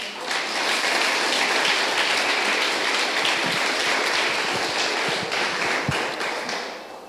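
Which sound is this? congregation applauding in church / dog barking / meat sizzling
congregation applauding in church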